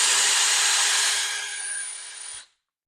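A handheld power drill running in reverse to back a screw out, with a steady whirring whine close by that dips slightly near the end and then cuts off abruptly, leaving silence.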